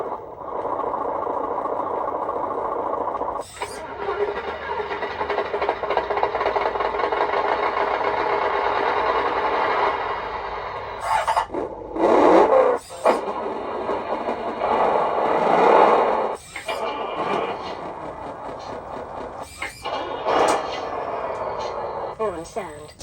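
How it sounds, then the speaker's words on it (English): Synthetic diesel-style engine rumble from a sound module in a 1/14 scale RC truck, played through a small buzzy speaker, idling and revving in bursts and broken by short pauses and button beeps. "Volume adjustment, engine sound."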